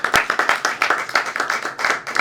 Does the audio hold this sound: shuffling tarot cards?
no